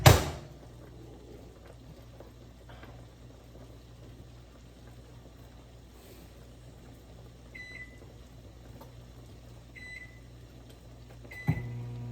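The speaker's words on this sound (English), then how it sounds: "I'm going to dash over here right quick and set my microwave." A sharp clunk, then a low steady microwave hum with a few faint electronic beeps from button presses, ending in another thump.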